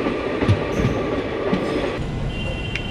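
The Ratnachal Express rolls slowly into a station platform, with a steady rumble of wheels on rails, faint clacks and a thin squeal near the end, heard up close from on board.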